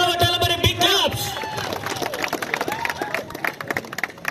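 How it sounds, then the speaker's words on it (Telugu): Crowd applause and cheering at a bullock cart pulling contest in a village, a loud dense mass of clapping and voices with music-like tones in the background, continuing throughout. "ఒకసారి అందరూ గట్టిగా చప్పట్లు కొట్టాలి. మరి బిగ్ క్లాప్స్."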